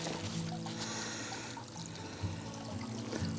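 Water trickles and splashes steadily in a small garden mini pond display, a soft, continuous pouring burble heard from nearby.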